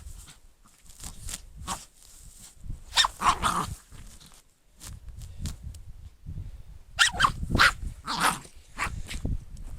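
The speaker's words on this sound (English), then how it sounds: "Dog's still crazy." A dog barks in repeated bursts and clusters on the Cornwall coast path between Port Quin and Port Isaac, loud and close with short pauses and some growly, whiny sounds between barks.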